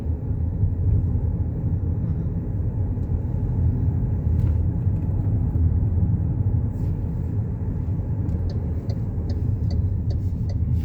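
Steady low rumble of a car driving through city streets near a railway station, heard from inside the cabin, a continuous even engine and road drone with faint ticking sounds toward the end.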